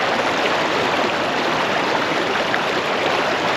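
A flowing river current rushes steadily and loudly around someone wading in chest waders, a constant broadband water roar with no talking.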